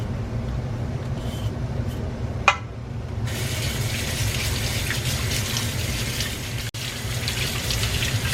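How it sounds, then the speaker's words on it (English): Tap water runs steadily into a sink over shredded green papaya being rinsed, a close, continuous gushing with brief small knocks and splashes. "you wanna kind of like rinse it out real good"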